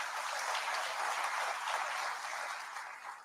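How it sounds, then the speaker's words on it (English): Sustained audience applause fills a railway passenger app launch event, a dense, even clapping that stays loud throughout and eases slightly near the end, with no talk over it. "the big applause to all of you"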